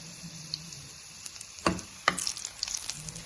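Ingredients for a mixed-greens soppu saaru fry in a pan, giving a soft, steady sizzle broken by a few sharp clinks and scrapes of a stirring utensil, heard close with no talking.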